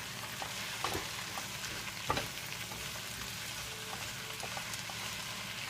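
Salsa ingredients simmering in a pan, a faint, steady close sizzle and soft bubbling throughout, with a few light clicks and stirring taps.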